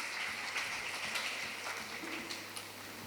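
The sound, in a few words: applause for teachers on Teachers' Day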